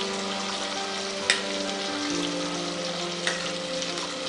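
Murrel fish pieces go into a village-style fish curry in a pan, bringing a steady, loud sizzle and bubbling with a couple of brief clinks, and no voices.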